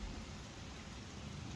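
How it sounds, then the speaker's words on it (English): Rain falling outdoors, a soft, even hiss of drops steady throughout, faint and without any voices over it. "You enjoying the rain?"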